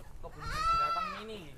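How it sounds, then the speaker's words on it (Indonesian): A single goat bleats once, close and clear, with a wavering nasal cry lasting about a second against a quiet outdoor background. "Ada kambing."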